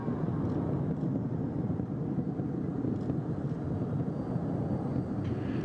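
Space Shuttle Atlantis climbing away from Kennedy Space Center on its final launch, a continuous deep distant rumble that stays broad and steady throughout, with no voices.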